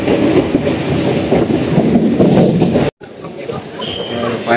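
A Mumbai suburban train runs toward Diva station with a loud, close rumble and rhythmic clatter. The sound breaks off sharply, then continues more quietly, with voices faintly under the noise.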